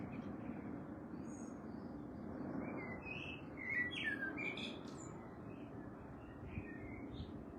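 Several blackbird songs with short whistled phrases over a steady low rumble, one singer closer and another answering faintly in the distance.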